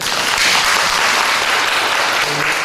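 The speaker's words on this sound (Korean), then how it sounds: "다시 한 박수 한번 드릴게요." Steady applause from a church congregation fills the space, dense and continuous clapping from many hands with no pause.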